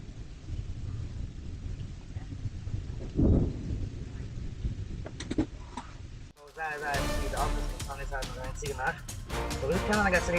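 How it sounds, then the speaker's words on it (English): Thunder rolls from a lightning strike during a thunderstorm as a heavy low rumble over steady rain, with one sharp burst partway through, then louder talking and other busy sounds take over. "This shocking moment is a reminder to seek shelter immediately during thunderstorms."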